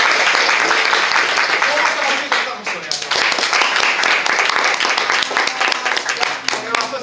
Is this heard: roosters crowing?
no